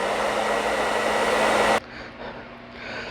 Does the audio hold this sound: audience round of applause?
no